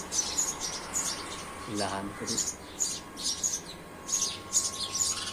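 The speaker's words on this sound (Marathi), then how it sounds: "चिमण्यांचा आवाज बघा" Sparrows chirp in quick, high repeated bursts throughout, with a short phrase spoken by a man partway through over steady background hum.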